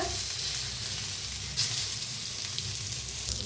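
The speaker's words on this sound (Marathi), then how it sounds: "फिरवून भाजूया आपण गॅस कमीच करून भाजा" Brinjal coated in masala roasts on a tawa over low gas, giving a continuous close sizzle and hiss that stays steady throughout, with no voices.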